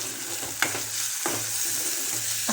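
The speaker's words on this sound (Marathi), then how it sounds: "टोमॅटो पण जरा तेलात परत त्याच्यात" Tomatoes fry in hot oil for a spicy drumstick curry, a steady close sizzle broken by a few sharp scrapes of a spoon stirring the pan, with no talk.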